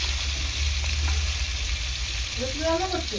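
Pieces of fish fry in hot oil with a dense, even sizzle close by, and a faint voice-like murmur rises near the end.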